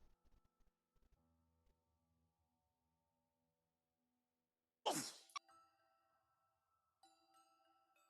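A single sharp sneeze bursts out close and loud in an otherwise quiet room, preceded by faint ticking and followed by soft electronic tones.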